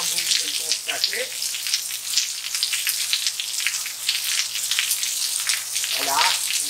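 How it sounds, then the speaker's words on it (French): Steady heavy rain pattering and hissing on surfaces outdoors in Miami as Hurricane Isaias approaches, a dense continuous wash of drops at close range with a brief faint voice near the start and end. "Mais il commence certainement à pleuvoir, comme vous pouvez le constater."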